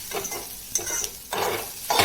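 Onion frying in a pan for a Malvani-style prawn dish, with a loud continuous sizzle and repeated stirring scrapes coming in bursts, close and with no talking.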